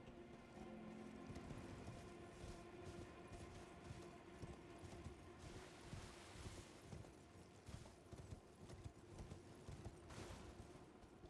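Quiet, continuous clopping of horse hooves in Elden Ring: Shadow of the Erdtree at a steady trotting rhythm, mixed with low rumbling background noise throughout.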